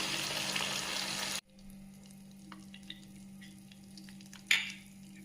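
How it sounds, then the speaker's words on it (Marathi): Cashews frying in a pan until golden give a loud, close sizzling hiss for about a second before it cuts off abruptly. Quieter kitchen sounds follow, with a few faint clinks and a short bright scrape near the end. "काजू घालू, पूर्ण गोल्डन होईपर्यंत भाजून घेऊ"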